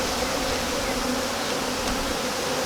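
Honey bees from a newly installed backyard hive package hum in a dense, steady, close buzz that fills the short stretch without pause or speech.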